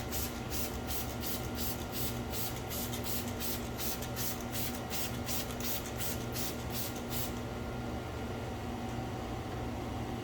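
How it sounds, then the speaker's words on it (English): Chemical Guys Nonsense all-purpose cleaner is sprayed onto a car in a quick run of rhythmic trigger bursts, about a dozen evenly spaced hisses, before a steady background hum continues alone. "next we're going to use Chemical Guys Nonsense All-Purpose Cleaner, pH neutral"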